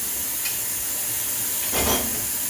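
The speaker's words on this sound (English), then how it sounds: "This water needs to be ran to get all these impurities out of the system." Tap water runs steadily into a kitchen sink while dishes are being washed, a continuous broadband hiss with a brief louder splash near the end and no talking.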